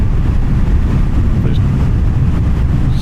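Heavy, steady wind buffeting while riding a BSA Goldstar 650 motorcycle with no wind protection, a loud rumbling roar that covers the whole clip with the engine beneath it.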